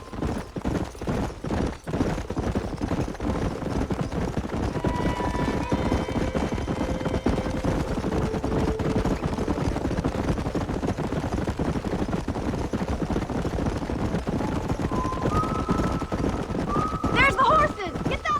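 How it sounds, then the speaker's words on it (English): Horses clip-clop steadily through the whole stretch in the video game Red Dead Redemption 2, with a few whinnies rising over the hoofbeats and people talking on and off. "There's the horses!"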